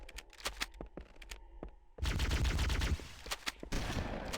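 Rapid bursts of shotgun fire from enemies in the Halo CE beta, Legendary difficulty, cracking in quick uneven succession, then swelling into a dense, loud barrage of overlapping blasts.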